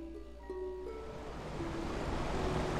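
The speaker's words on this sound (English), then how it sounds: "Alright, water's drained." Water drains in the Resident Evil video game with a broad rushing wash that swells steadily louder, while a few sustained tonal game sounds fade out early on.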